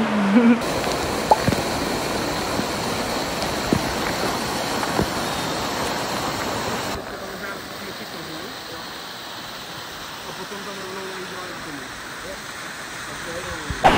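Steady broadband rush of a waterfall on Koh Samui island, a continuous wash of falling water that is loud at first and slightly softer after midway, with no voices.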